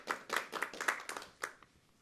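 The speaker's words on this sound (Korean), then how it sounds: "박수해 주십시오." Brief, sparse clapping from a small audience at a horse race interview event, a handful of quick distinct claps over about a second and a half before fading out.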